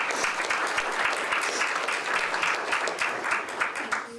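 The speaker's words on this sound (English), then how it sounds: "Let's give a round of applause for those two" Steady applause from an audience at a volunteer recognition breakfast: many hands clapping together in a continuous, even rush lasting the whole few seconds.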